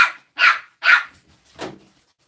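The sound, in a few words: French bulldog puppy barking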